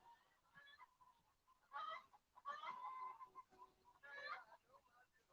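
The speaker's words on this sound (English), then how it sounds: "Got them nice long-legged Rhode Island red chickens." Long-legged Rhode Island Red chickens cluck and call in a few short bursts, moderately close, with quiet gaps between the calls.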